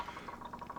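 Water runs steadily while a plastic syringe is rinsed during AeroGarden plant-food mixing, a soft continuous pouring and trickling with faint droplet patter and no talking.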